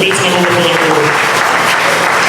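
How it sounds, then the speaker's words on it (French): A church congregation applauds for the Lord, a dense, steady wash of clapping at close range that fills the whole moment without a break. "Applaudissez pour le Seigneur"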